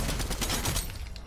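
Rapid gunfire from a Fortnite match crackles in dense, continuous bursts, loud and close, with a busy game backdrop and no talking over it.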